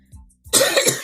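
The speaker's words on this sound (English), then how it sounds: "he's getting me to have a coughing attack" A person in the Big Brother Canada house breaks into a close, harsh coughing fit of several quick rough coughs, after a brief soft throat sound.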